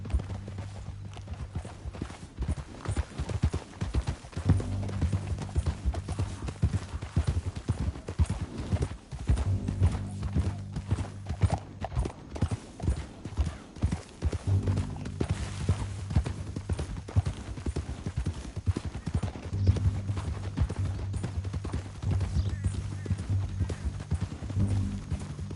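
Horses' hooves clip-clop and gallop along a canyon trail in a steady, rhythmic patter that runs throughout at moderate loudness, with no talking over it.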